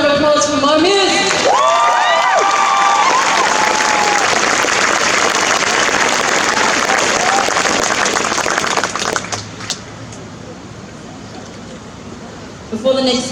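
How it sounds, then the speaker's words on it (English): A crowd at an Auckland street protest in June 2020 applauding and cheering loudly after a speaker, the dense clapping easing off toward the end, with a voice heard over it. "one more round of applause for Mo Muse"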